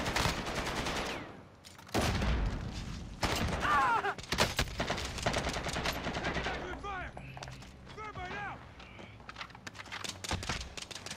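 Warzone combat with repeated gunshots and rapid automatic bursts, some close and loud, others farther off, interspersed with mechanical clacks and game effects across a busy firefight.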